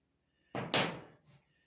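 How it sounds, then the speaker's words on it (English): A cabinet door swings up and smacks against a magnet catch, one sharp close thud with a brief rattle after it, loud and close in an otherwise quiet room. "the cabinet door comes up and hits it and stays put"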